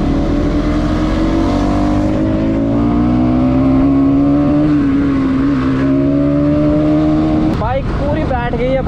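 A motorcycle at full throttle holds a loud, steady engine drone with rising and falling pitch, then briefly shifts near the end, with wind rush throughout.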